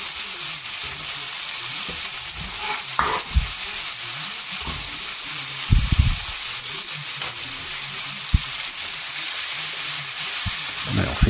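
Mushrooms and vegetables sweat in a pan for veal tendrons with asparagus, giving a steady close frying sizzle with occasional stirring scrapes and utensil knocks.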